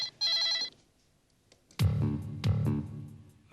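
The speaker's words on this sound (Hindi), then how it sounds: "किडनैपर का फोन आया" A telephone rings in two bursts: a short electronic trill, then after a pause two louder ringing pulses with a full harmonic tone, close and clear, during a tense call from a kidnapper.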